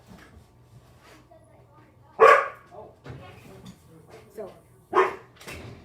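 A dog barks in two loud, sharp bursts a few seconds apart, close by, with a person speaking through the rest of the clip.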